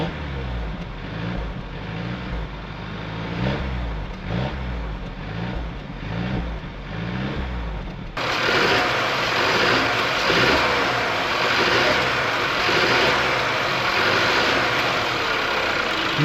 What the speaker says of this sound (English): A 2-liter turbocharged 4-cylinder engine, even though the M139 is quite different than this, that still stands.